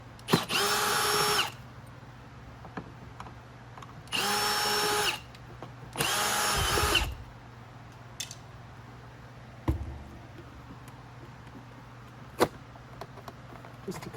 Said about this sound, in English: All I'm doing is just pulling these perimeter screws out.